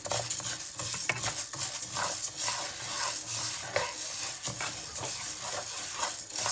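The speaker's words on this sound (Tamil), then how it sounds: "இந்த கப்பில் உள்ள உளுந்த நான் நல்லா வறுக்கிறேன்" Urad dal dry-roasted in a pan for paal puttu, a continuous dry rustling and scraping as the lentils are stirred, with faint clinks of utensil against pan and a soft sizzling undertone throughout.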